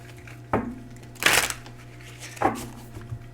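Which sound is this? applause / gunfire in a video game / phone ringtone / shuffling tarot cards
shuffling tarot cards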